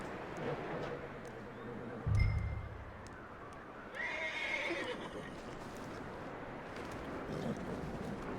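A horse in Red Dead Redemption II lets out a loud, close neigh about two seconds in, amid steady blizzard wind, with hooves clopping through the snow after it.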